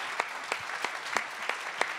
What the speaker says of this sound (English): Clap it up for y'all.